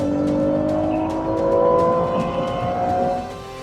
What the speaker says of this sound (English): I want to use it, and I want to let that motor roar